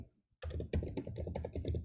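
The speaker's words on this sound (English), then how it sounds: "Sorry, I was just typing in the chat." Rapid keystrokes clatter on a computer keyboard while someone types in a chat during an online meeting, a quick close burst of clicks lasting under two seconds.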